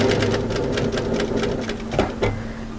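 A sewing machine runs steadily, stitching an apron seam back up to a straight edge, with a fast even whir of needle strokes close by and no talk.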